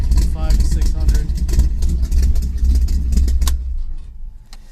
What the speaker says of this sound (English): You just hit the start button. Starts right up. She idles about 500 to 600.